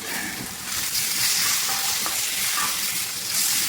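Bottle gourd (upo) and shrimp with celery sauté in a pan, giving a steady, close sizzle broken by occasional stirring scrapes.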